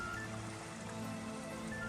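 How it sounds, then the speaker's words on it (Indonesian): Irrigation water flowing steadily in a channel beside a villa garden, a faint, continuous wash that runs evenly with no other sounds. "berbatasan dengan irigasi atau air mengalir seperti ini."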